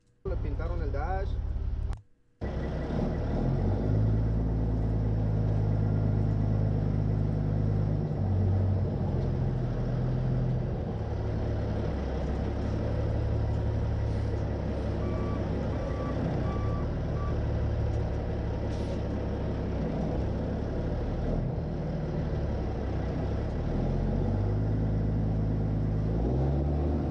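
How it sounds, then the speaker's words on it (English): A truck engine with straight pipes drones loud and steady for nearly half a minute, briefly cut off near the start, with a voice talking over it. "sounds good with those straight pipes on that truck"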